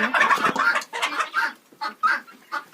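Hens in a henhouse, also kept with guinea fowl, clucking loudly and close in a quick run of calls that break into shorter separate clucks toward the end.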